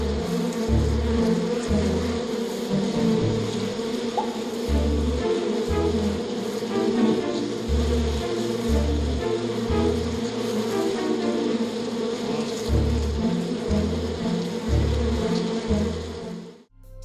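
Bees swarm around a hive shaped like a car in Florida, making a dense, continuous, loud buzzing that lasts throughout with no voices.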